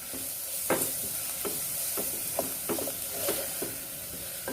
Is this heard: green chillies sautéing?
yes